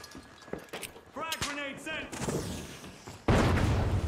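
Frag grenade and gunfire in the first-person shooter The Finals: scattered sharp bangs, a rising burst of noise and a loud explosion near the end, with talk in between.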